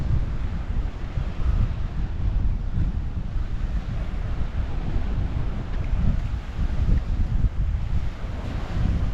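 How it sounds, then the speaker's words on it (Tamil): Steady sea wind roars across a beach in Thoothukudi, a continuous loud, gusty rush blended with crashing surf, with no voices. "நான் பேசுகிறதோட சேர்த்து இங்கே கடல் காற்றோட சத்தமும் அடிச்சுக்கிட்டே தான் இருக்குது"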